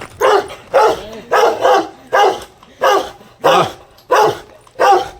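A dog barks loudly and close by in a steady series of about ten sharp barks, evenly spaced.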